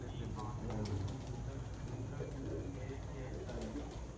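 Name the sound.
pigeons cooing as racing pigeons land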